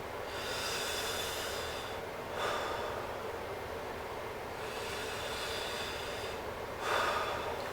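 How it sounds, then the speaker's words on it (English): During a head-to-toe lung exam, a patient takes slow, deep breaths, heard close up as long hissing airy inhales and exhales, about two full cycles, with no talking. "Take a deep breath."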